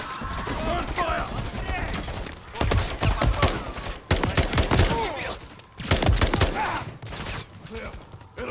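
Rapid bursts of gunfire from a Call of Duty Modern Warfare III firefight, sharp clustered volleys rising in several loud waves, with shouted voices and background combat noise between them.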